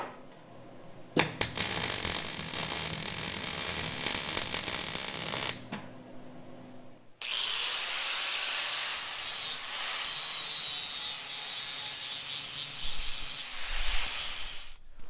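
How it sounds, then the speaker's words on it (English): A wire wheel scrubs the welds on an Oliver bush hog under repair. It gives a loud, harsh, steady hiss in two long passes, with a short pause between them. "I've wire wheeled it to at least the best that I'm going to do on it."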